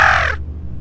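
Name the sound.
crow cawing in a horror video game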